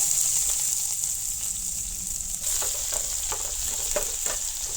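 Dried red chillies, chopped onion and garlic fry in hot oil in a pan for a jackfruit seed curry, giving a steady close sizzle with scattered sharp crackles and pops.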